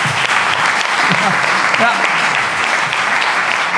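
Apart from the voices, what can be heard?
audience applause welcoming second presenter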